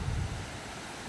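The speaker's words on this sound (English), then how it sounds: "Here's the other side of the dam. Water just spilling over." Water spilling over a dam makes a dense, steady roaring rush, broad and constant, with low wind buffeting at the microphone and no voices.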